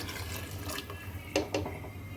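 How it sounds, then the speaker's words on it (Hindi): Leftover spinach cooking water is poured into a pot of mutton and spinach, a soft, steady liquid splash with a couple of brief louder splashes near the end, fairly quiet over kitchen background noise. "ये जो पालक का पानी है पकाया जो हमारे पास बच गया है, ये भी मैं इसमें ऐड कर दूँगी"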